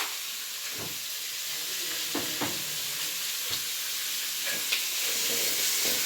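Ginger garlic paste fries in a pan for cabbage manchuri, a soft continuous sizzle broken by several sharp scraping clicks of stirring, fairly quiet and close, with no talking.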